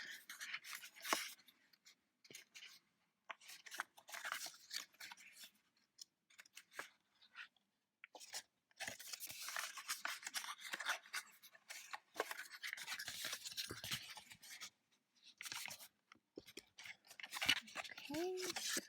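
Paper is folded by hand along scored lines, giving quiet, intermittent crinkles, creases and rubbing scrapes in short bursts with brief pauses between them, close and soft.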